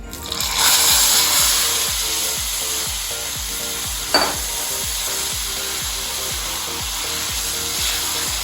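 Taro leaves hit hot oil where cumin and bay leaf have darkened, setting off a loud, continuous sizzle with a steady rhythmic scraping of stirring and one sharp knock near the middle, close up and wordless.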